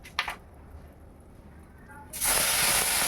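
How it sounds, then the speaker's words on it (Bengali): Ground onion paste hitting hot oil in a pan, bursting into a loud, steady broadband sizzle that starts abruptly partway through after a quieter stretch of low frying noise. "দিয়ে দিচ্ছি বেটে রাখা পেঁয়াজ। পেঁয়াজটাকে আমি ভালো করে ভেজে নেব।"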